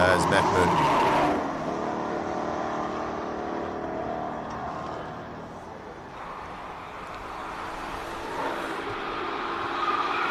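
A Golf GTI races up the Simola hillclimb, its engine droning steadily at high revs with tyre noise, heard at a distance beneath live commentary.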